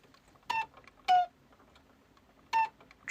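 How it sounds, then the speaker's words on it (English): Small alarm clock beeping in short bright electronic bursts, three distinct beeps with uneven gaps, close and clear over near silence. "Trusty little alarm clock"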